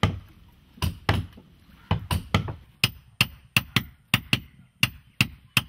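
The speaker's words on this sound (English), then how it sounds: "The rhythm of the work follows the beat of the mallet." A mallet strikes repeatedly while coconut fiber lashing is tightened on a sewn wooden boat in Kerala, sharp close knocks in an uneven then steadier rhythm, about eighteen blows with no talk.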